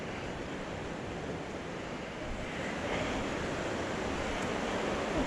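The Dosewallips River flows near Elkhorn Campground, a steady, even rush of water that rises slightly in loudness partway through, with no voices.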